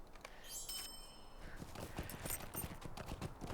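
Hooves clip-clop at a steady walking rhythm in a video game, quiet and close, preceded by a soft chime and a faint bright jingle.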